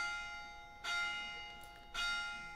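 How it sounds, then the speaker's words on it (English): Church bells ring in the distance at about twenty past six on a Friday evening, two soft bell strikes a second apart sounding over a steady tonal background, with no voices. "So that the church bells can stop."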